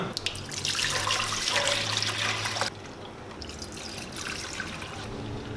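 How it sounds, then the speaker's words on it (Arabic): Milk pours into glass Pyrex dishes as a steady liquid stream. It splashes loudly at first, then the flow softens and continues more quietly. "هون أنا عندي جاتين بيركس، رح احط الحليب بقلب هول الجاتين."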